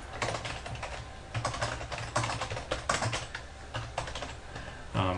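Someone types a password on a computer keyboard, quick irregular bursts of close key clicks with short pauses, and no speech.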